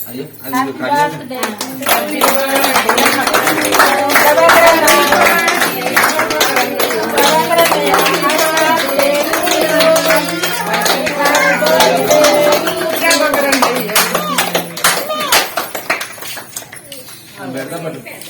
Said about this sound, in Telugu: అందరు చప్పట్లు కొట్టారు